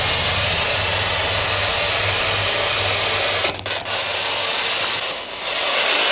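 Spirit box radio sweeping through stations in a reportedly haunted old county jail, giving a steady loud wash of hissing static with brief dropouts and faint choppy fragments as it scans.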